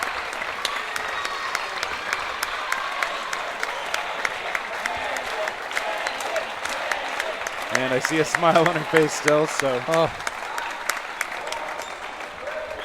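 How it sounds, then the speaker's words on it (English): Crowd applause at a women's foam dodgeball world championship match between Argentina and Austria, sustained clapping from the stands for an injured home player as she is carried off, with commentators talking over it. "The crowd really showing their support for their hometown hero."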